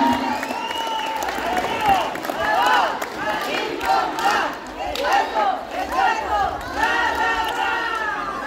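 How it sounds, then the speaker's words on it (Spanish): A crowd at a school cachibol final in Santa Lucía Ocotlán claps and cheers in waves, loud and close, with shouts and whoops rising and falling over the applause. "¡Fuerte los aplausos para esta escuela!"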